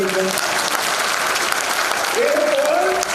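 A crowd at a BJP political gathering claps loudly and continuously, a dense wall of applause with a brief voice or tone surfacing toward the end.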